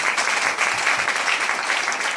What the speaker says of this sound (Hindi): मैं चाहूंगा उनके लिए तालियां। श्री मनोज बजाज की तालियां।